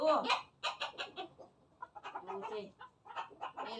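Silkie chickens cluck in quick, choppy bursts close by, the clucking coming in uneven clusters with short pauses.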